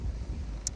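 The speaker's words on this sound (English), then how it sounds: "it is really windy" Strong wind in hot southern Spain buffeting the microphone: low, rumbling gusts pressing steadily and fairly faintly through a brief moment, with no other clear sound.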